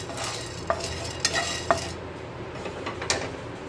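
Chana dal being stirred and roasted in a pan for a karela (bitter gourd) dish: a steady dry sizzle with a few sharp scrapes and clinks of a spoon against the pan, close and moderately loud, no talking.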